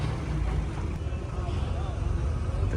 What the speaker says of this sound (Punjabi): ਇਧਰ ਹੌਲੈਂਡ ਦੀ ਟਰਾਈ ਬੱਜੀ ਜਾਂਦੀ ਹੈ ਬਾਈ ਜੀ